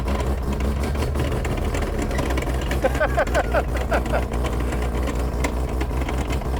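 A VN Commodore fitted with a rotary engine idles smoothly and evenly nearby. The steady low hum runs throughout, with people talking over it in the middle.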